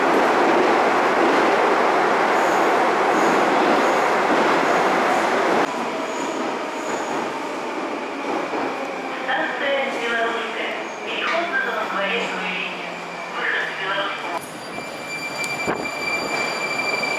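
A Moscow metro 81-740-741 Rusich train at an anniversary parade, heard as a loud, close, broadband rumble that eases and is then crossed by high, sustained wheel squeals, with voices faintly in the background.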